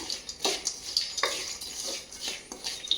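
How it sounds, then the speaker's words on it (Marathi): Spices and masala being stirred into puffed rice chivda with chana in a pan at home, giving repeated soft scraping and rustling strokes, close and moderately loud, with no voices. "छान फिरवून घेते"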